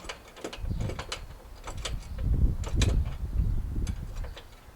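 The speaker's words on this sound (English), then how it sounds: "Just hold on to the nut, undo the wing nut," A wing nut being unscrewed on a home water system: close, irregular metallic ratcheting and grinding clicks in short bursts, rising and falling over a few seconds, with no talking.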